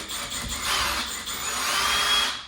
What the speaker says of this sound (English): I'm going to use the drill